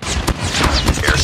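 Automatic sentry gun firing in the Call of Duty video game, a loud, close burst of rapid gunfire with sharp repeated shots over a dense background of game noise.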